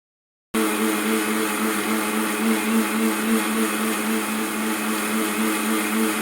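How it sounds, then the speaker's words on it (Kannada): Mixer grinder grinding cumin and ginger, switching on abruptly after a brief silence and then running as a loud, steady motor whine with a dense, even roar through to the end. "ಸ್ವಲ್ಪ ಜೀರಿಗೆ ಮತ್ತು ಶುಂಠಿ ಸ್ವಲ್ಪ ಹಾಕಿ ರುಬ್ಕೊಂಡಿರ್ತಿದ್ದೀನಿ"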